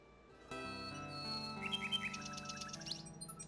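A nightingale's song in the 1992 video game King's Quest 6, played as synthesized chirping trills over a sustained musical backdrop. It is quiet, lasts a few seconds, and has no speech.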